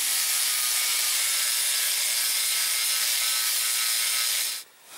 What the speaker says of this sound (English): take my sander and just sand off all this weathered wood here